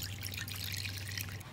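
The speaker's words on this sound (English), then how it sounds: "let's go ahead and pour the nail polish remover in" Nail polish remover pours in a thin steady trickle onto styrofoam, a faint continuous splashing over a low hum.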